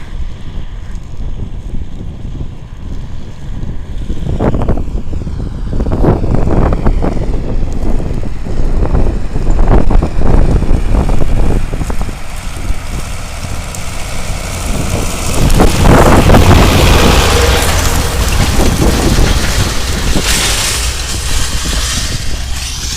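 Strong, cold, dry gusty wind buffets the microphone in a steady roar, swelling louder at times, with a low engine-like rumble underneath from farm machinery.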